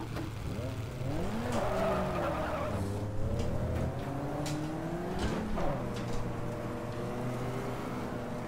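In the racing game GT Legends at Monza, a Lotus Cortina skids after overbraking, with wavering tire squeal over a steady engine drone, rising and falling engine pitch and faint clicks, continuous and moderately loud.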